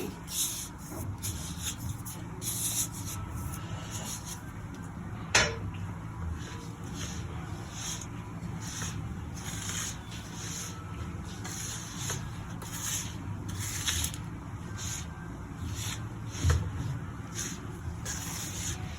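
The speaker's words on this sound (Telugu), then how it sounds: "ఇప్పుడు ఆయిల్ వేడి తగ్గింది, అందువల్ల ఇంకా చేత్తో కలుపుకోవచ్చండి" Murukku dough being mixed by hand with oil that has cooled from hot, a steady soft rubbing and squishing close up, continuous and fairly quiet with a couple of brief knocks.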